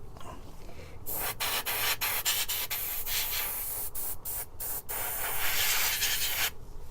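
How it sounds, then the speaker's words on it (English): An airbrush sprays paint onto a 1:144 scale Revell Sikorsky CH-53G model helicopter, a close, steady hiss broken by several short pauses as the trigger is released and pressed again. "Airbrush time."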